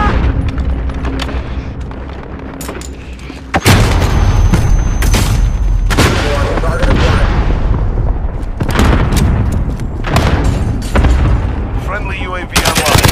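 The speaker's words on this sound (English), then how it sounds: "Enemy cluster strike incoming!" Cluster strike explosions in Call of Duty Modern Warfare during a team deathmatch, with loud booming blasts and gunfire rolling in repeated bursts over about thirteen seconds, close and heavy, with game voice callouts mixed in.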